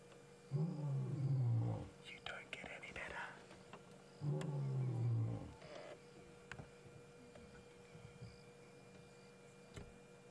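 A lion roars at sunset in two long, deep, rumbling calls a few seconds apart, fairly distant and low against a quiet outdoor background.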